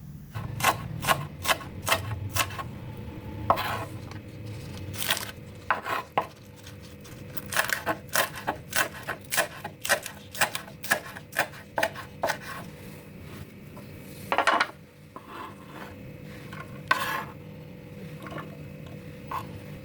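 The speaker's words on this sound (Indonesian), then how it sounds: "Lalu potong-potong juga 1 batang daun bawang, dipotong-potong kecil." A knife chops a stalk of spring onion into small pieces on a board for beef soup, with quick bursts of sharp taps in uneven rhythm and brief pauses between runs, close and clear without talk.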